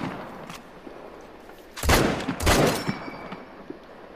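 Rifle shots in theHunter Call of the Wild, two loud booming reports about half a second apart with rolling echo, set against a quiet outdoor background with faint scattered clicks.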